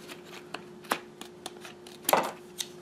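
Scissors cutting through the plastic blister package of a SanDisk Extreme USB 3.0 flash drive, a close series of sharp irregular snips and crinkles, about seven distinct clicks over three seconds.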